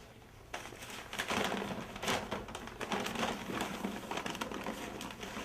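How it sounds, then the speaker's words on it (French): A used bag is pulled out of a vacuum cleaner, giving a continuous run of rustling, crinkling paper and scraping plastic handling noises, close and moderately loud, with no talking. "Nous sortons le sac usagé."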